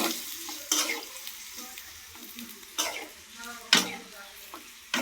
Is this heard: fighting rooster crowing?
no